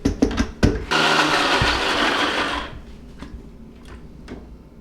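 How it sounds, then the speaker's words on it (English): A countertop blender roars loudly for a couple of seconds, chopping nuts and greens with oil for homemade pesto, then winds down, leaving scattered taps and clicks. "So we'll just blend this, and then we'll add more oil and more greens."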